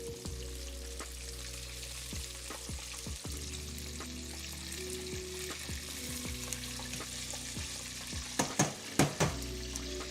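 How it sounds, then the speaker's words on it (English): Chicken deep-fries in hot oil for its second fry, giving a steady close bubbling sizzle with some clatter and a few louder knocks near the end. "Now, on the second fry, everybody, it's only going to be a couple of minutes, like 3 at max."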